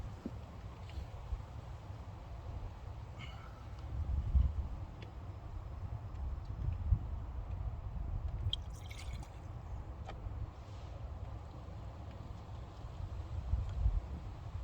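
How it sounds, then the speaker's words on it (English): A faint, steady trickle of diesel fuel being poured into a fuel filter housing on a Mitsubishi Shogun, with occasional drips and small splashes over low background rumble, close by and quiet. "Now it's time to pour the new fuel in."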